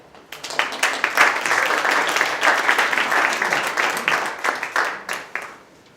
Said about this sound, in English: So we got a round of applause for Mark Shea.